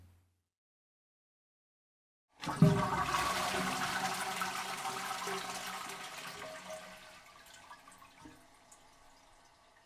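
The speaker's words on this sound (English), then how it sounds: "The sound of the toilet flushing woke Justin that night." A toilet flushes once after a moment of silence, a loud rushing gurgle of water that slowly tapers off as the tank refills.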